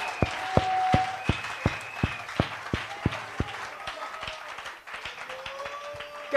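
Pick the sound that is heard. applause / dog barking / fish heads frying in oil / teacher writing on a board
applause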